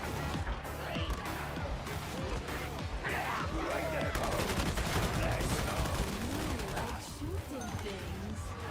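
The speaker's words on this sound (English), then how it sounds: "Stephanie likes to see you shooting things." Heavy gunfire in the video game Warhammer 40,000: Darktide, with rapid bursts and sustained volleys mixed with crashes and impacts, loud and continuous, while players talk over the chaos.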